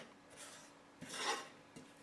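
Butter and flour being stirred together in a saucepan for a Parmesan soufflé base, making quiet rasping, scraping strokes, with one louder longer scrape in the middle and a short one near the end.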